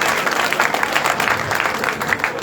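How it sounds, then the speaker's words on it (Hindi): A crowd applauds a local MLA at a political gathering, a dense steady wash of clapping throughout with some crowd noise mixed in. "जोरदार तालियां"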